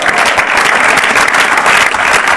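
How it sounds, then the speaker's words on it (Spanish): A church congregation bursts into loud, dense, continuous applause that fills the space without a break. "Denle un aplauso al Señor."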